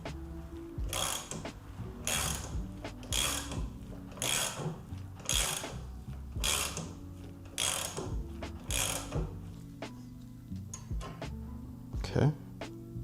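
Ratchet clicking while the fork cap nut is tightened on an Indian Challenger motorcycle fork, a series of evenly spaced rasping bursts close by, with someone talking over part of it.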